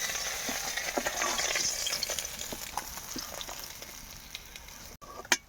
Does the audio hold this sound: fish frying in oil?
yes